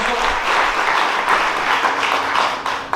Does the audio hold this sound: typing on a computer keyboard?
no